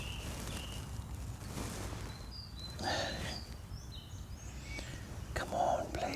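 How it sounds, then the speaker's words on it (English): Pigeons and magpies calling outdoors at dusk where badgers are expected, a few faint chirps and chatters scattered over a steady hiss of ambient noise, distant and quiet. "All I'm getting so far is pigeons and magpies, although it's a lovely sound."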